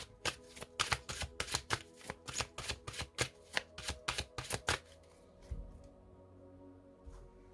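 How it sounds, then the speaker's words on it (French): A deck of tarot cards being shuffled by hand: a rapid series of crisp riffling flutters for several seconds, then stopping, with a couple of soft taps near the end. "je vais bien mélanger ce jeu parce que je les prends à l'endroit et à l'envers, ces cartes."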